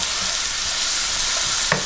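Ground beef and onions fry together in a pan for spaghetti sauce, giving a steady, close, broadband sizzle with one brief utensil clack near the end.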